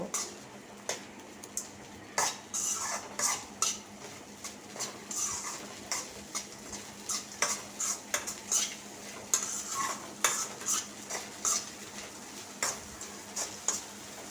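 A spoon stirs chira pulao made with flattened rice after ghee is added, tapping and scraping the pot in a quick irregular series of clinks over a faint background sizzle, with no talking.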